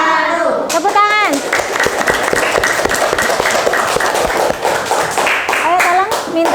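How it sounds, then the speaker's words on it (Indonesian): Students in a classroom clap together in a dense, lively burst that fills the whole clip, with children's voices chattering and calling out over and between the claps. "Tepuk tangan."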